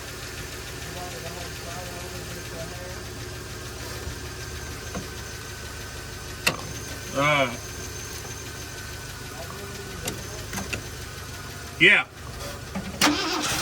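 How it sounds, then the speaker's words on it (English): Starter cranks the engine of an abandoned Ford F350 that has sat for 22 years, with bursts of cranking and brief catches at close range over a steady background, while someone speaks briefly. "Starter makes it crank over quite a bit better."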